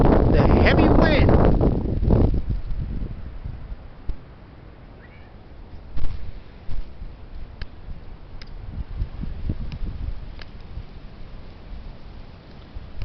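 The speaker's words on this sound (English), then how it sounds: "The heavy wind." Heavy wind buffets the microphone in cold outdoor conditions, a loud, rumbling roar that dominates the opening seconds, then settles into steady gusty blowing with intermittent thumps and bursts.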